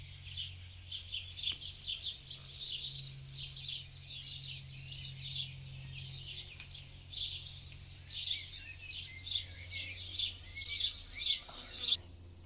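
High, repeated chirps and peeps from newly hatched baby swallows in a nest, growing busier toward the end, over a low steady hum.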